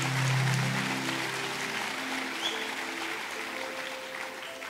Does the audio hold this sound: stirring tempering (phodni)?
no